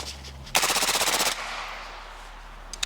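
A loud, rapid burst of automatic fire from an Armalite machine gun at an outdoor range, shooting at a skeet target: about a dozen evenly spaced shots in under a second, then a fading echo and a couple of faint later clicks.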